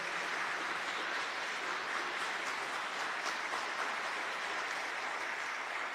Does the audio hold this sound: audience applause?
yes